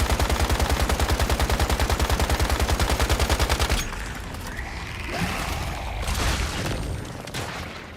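An assault rifle in Once Human fires a rapid, steady full-auto burst at a boss for nearly four seconds, loud and close, before it cuts off into rumbling game ambience with scattered impacts and mechanical noise.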